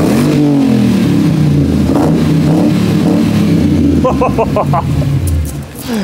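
A 2005 Range Rover with a supercharged V8, running on ethanol with a stage 1 tune, revs loudly and close up in a deep, continuous roar whose pitch swells and falls, with a few brief sharp clicks near the end.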